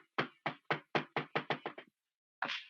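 Heavy knocking from a caller on an emergency phone line signalling yes: nine rapid, loud thumps that speed up toward the end, then a pause and one more muffled knock, heard close with no talk.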